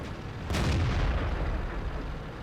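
A single heavy tank cannon blast in World of Tanks from the STA-1, a deep booming report followed by a long rumbling decay, loud and close with no talk.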